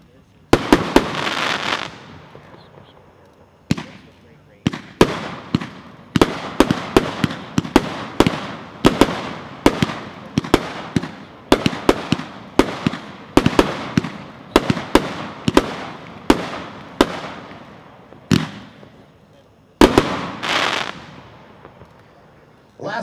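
A 26-shot, 500-gram Commander-in-Chief fireworks cake fires at a fireworks convention demo, a long run of loud booming shots in irregular bursts with voices faintly underneath.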